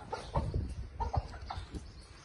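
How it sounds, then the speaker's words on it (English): A small sanctuary flock of chickens clucking close by in a farmyard, with short overlapping clucks and low murmurs that come in irregular bursts, with no talking. "So we have 11 chickens here all together."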